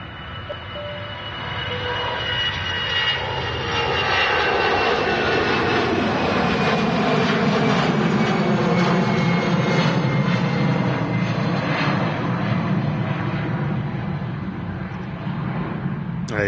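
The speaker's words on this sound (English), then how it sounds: "Here goes the Air France. I think it's an A319 by the looks of it." An Air France Airbus A319 departs Manchester Airport bound for Paris, its jet engines building into a loud, sustained roar that holds steady, then eases slightly near the end, with no talking.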